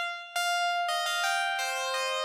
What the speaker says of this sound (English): Number 1 is this preset on Repro 5, the TUC synth keys short.